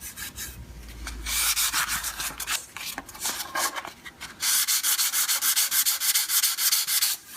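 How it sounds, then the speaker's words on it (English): Worn sandpaper is rubbed by hand against the grain of a wooden cabinet door, making steady rhythmic scratchy strokes that are close and fairly loud, with no talking. "So I'm going to run this against the grain down here lightly until I smooth it out."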